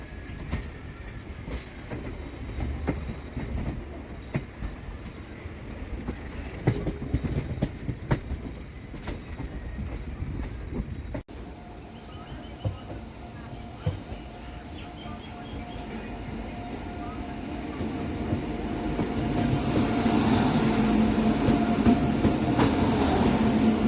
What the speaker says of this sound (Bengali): আমাদের ট্রেনটা শিয়ালদা বজবজ লাইনে ঢুকছে